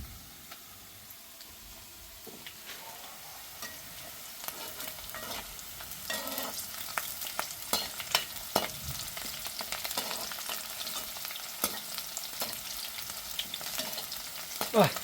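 Split green chillies drop into hot oil for a village-style chicken curry, starting with a quiet sizzle that builds into busier crackling and spitting with scattered pops; no voices.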